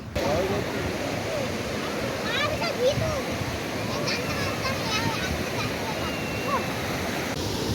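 Ocean surf at Puri beach rolls in as a steady, dense roar of breaking waves, with faint voices of people talking mixed into the wash.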